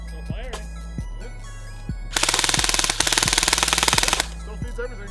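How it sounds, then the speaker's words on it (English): A Classic Army Skirmish Line airsoft rifle firing after a drop test: a few single clicks, then a sharp, fast full-auto burst lasting about two seconds, close and loud. "Oh wow, still feeds. Still firing."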